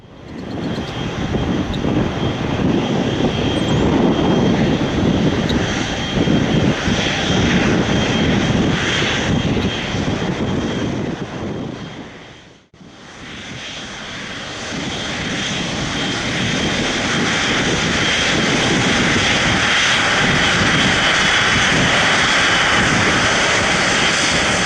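A Boeing 777-240(LR) jet departing at takeoff power, its engines roaring loud and steady, with a brief dip in the middle before the powerful roar builds back up and holds.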